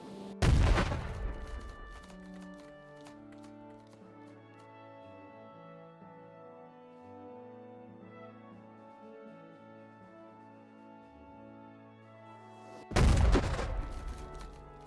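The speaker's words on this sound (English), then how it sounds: "we have a flat trajectory howitzer or cannon, and on the right we have a parabolic trajectory mortar." Artillery in the Battle Cry of Freedom video game, a flat-trajectory howitzer or cannon and a parabolic-trajectory mortar: a loud close boom opens, a sustained musical tone rings in between, and a second heavy blast lands near the end.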